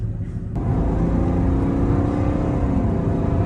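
A BMW F10 engine revs up and accelerates, heard from inside the car, a loud steady rising hum with rising gear tones.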